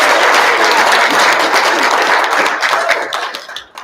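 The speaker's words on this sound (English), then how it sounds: "One more big round of applause for these kids." Audience applauding a group of kids at a school board meeting, a dense, steady wash of many hands clapping that holds loud and even, then thins and fades in the final moments.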